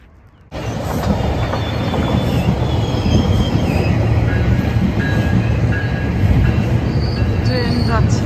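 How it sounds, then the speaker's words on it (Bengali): A train passes close by with a sudden loud onset, a sustained heavy rumble, rattling cars and high, squealing wheels that go on for several seconds. It is heard outdoors in a neighbourhood in Toro. "ট্রেন যাচ্ছে"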